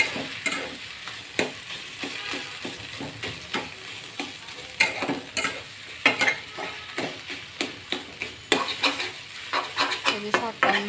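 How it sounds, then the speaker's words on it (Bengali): Leafy greens sizzle in a hot pan while a spatula scrapes and tosses them in irregular, repeated strokes, close and busy. "ভালো করে নেড়ে চেড়ে একটু ভাজা ভাজা করে নিয়ে"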